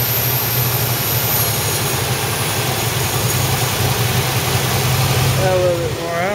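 A hot car engine idles steadily during a SeaFoam treatment, a constant low rumble close to the microphone with faint voices near the end.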